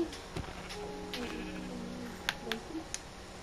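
Several short sheep bleats from Minecraft on PS4 pop up over a steady background hum, a few close together near the end, fairly faint.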